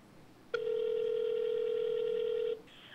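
A mobile phone sounds a single steady electronic tone lasting about two seconds, loud and clear against a quiet background.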